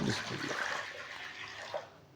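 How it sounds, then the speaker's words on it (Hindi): Water poured from a glass into a cooking pot on a medium flame for white lobia (black-eyed bean) curry, a steady broadband pouring rush lasting throughout, close and fairly loud. "अब इसमें नाप के 3 गिलास में पानी डालूंगा"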